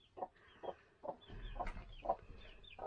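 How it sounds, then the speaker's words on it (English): A broody hen clucks in a series of short, rhythmic bursts at close range, about five distinct clucks spread evenly over a few seconds, with a low rumble of background noise underneath. "We have one more broody hen."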